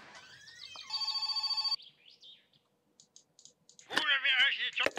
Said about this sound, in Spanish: Llaman al timbre, digo, al teléfono.